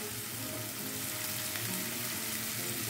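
Chopped yellow onion frying in a pan gives a steady, even sizzle throughout, fairly soft and close, with no talking.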